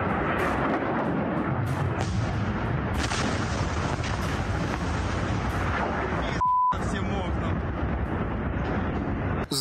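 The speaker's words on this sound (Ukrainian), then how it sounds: "Взривається там щось ще." Ammunition depot in Makiivka detonating, a dense continuous roar of explosions and booms with rumbling bursts layered throughout, loud and sustained, with a brief gap near the end.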